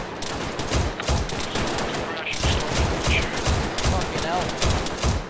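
Machine gun suppressing fire in a military video game, rapid bursts of loud gunfire rattling in quick succession with a brief pause midway, while someone shouts over the shooting.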